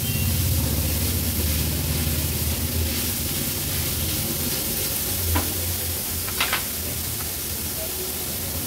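Grated paneer sizzles in a pan on medium heat, a steady close hiss of frying with a few faint scrapes as it is stirred.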